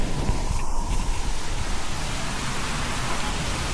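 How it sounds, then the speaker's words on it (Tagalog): Heavy rain pours steadily, a dense, even hiss of falling water that fills the whole moment with no voices. "Sobrang lakas na ulan."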